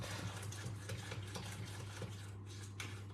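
Spatula stirring thick muffin batter for raspberry and blueberry mini muffins in a bowl, with a soft, continuous scraping and sloshing texture over a steady low hum, close and fairly quiet.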